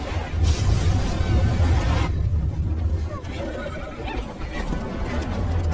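A horse neighs loudly in a dramatic fantasy film scene with a dragon, mixed with whooshing effects and a swelling score, while a narrator speaks over it.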